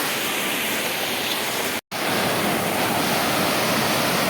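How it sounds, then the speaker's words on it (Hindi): A waterfall in Kashmir roars loud and steady, a dense continuous wash of rushing water with a brief cut of silence partway through. "ये आप देख सकते हैं पानी का शोर और गुल, किस तरह से पानी अपनी रफ्तार में आ रहा है"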